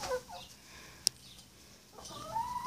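A rooster clucks in a farm coop, faint scattered calls at the start and end, with a sharp brief click in between, over steady low background noise.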